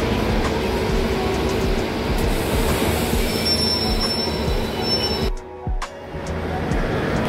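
A train running to Chennai, a loud steady rumble of wheels on rails with a high metallic squeal, heard from on board. A short dip in the noise near the end suggests a passing structure.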